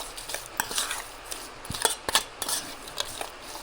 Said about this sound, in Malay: Lepas tu kita gaul dulu. Kita gaul sampai dia rata.